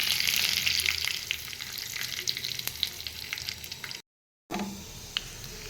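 Cumin, mustard seeds and dried red chili tempering in hot oil in a pan, a steady close crackling sizzle with small pops, briefly cutting out near the end before resuming.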